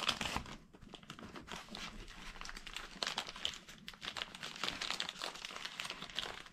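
Dyneema fabric crinkling and crunching as a small seam is folded by hand for a stuff sack, a close, continuous run of crisp rustles with no talk.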